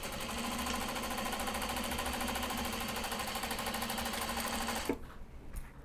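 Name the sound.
sewing machine stitching squirrel fabric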